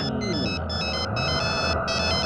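A phone ringtone plays in a Hindi-dubbed South Indian action film: a loud, steady electronic melody of repeating tones, alone and without talk.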